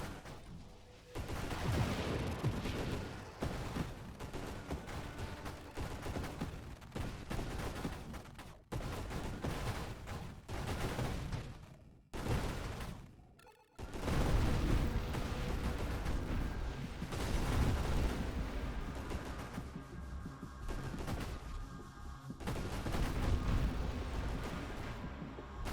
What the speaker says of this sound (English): It'll give us kind of more of a steady cadence of railgun shots from the mines.